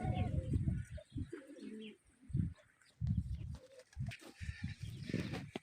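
Pigeons coo in soft, repeated low bursts at a pigeon and chicken coop on a date palm farm, close and fairly quiet, with gaps of near silence between calls and a little faint chirping.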